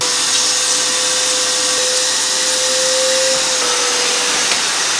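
A Shop Vac Micro vacuum cleaner runs continuously, a loud, steady whooshing hiss with a fixed motor whine that wavers slightly in pitch, heard close and alone.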